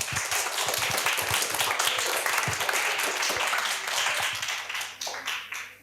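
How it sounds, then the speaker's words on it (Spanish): An audience at a school literary event applauds, dense hand clapping from a crowd in a hall that holds strong and then tapers off toward the end. "Un aplauso."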